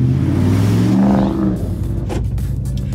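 A 2011 Ford F-150 SVT Raptor pulls away, its engine droning loud and close with a rising rev early on, then settling into a steady low rumble as it drives off.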